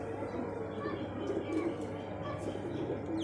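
Soft low cooing from an Imamdeen pigeon, a few rounded coos mixed with faint chirps over a steady background hum while someone talks nearby.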